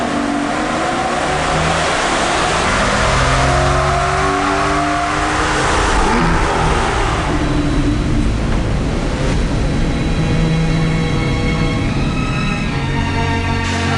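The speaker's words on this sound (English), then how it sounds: "This is our new rolling road. It's going to get up to about 70 or 80 miles an hour." An Aston Martin runs hard on a rolling road test rig at about 70 to 80 mph, a loud, continuous engine roar with rising and falling revs and dense wind-like rush, heard close and without talk.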